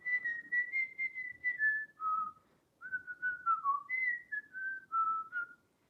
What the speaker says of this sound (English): The song, I'll whistle it, and then you guys can see my whistle lips.